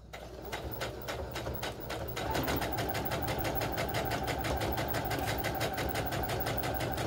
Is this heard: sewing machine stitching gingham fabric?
yes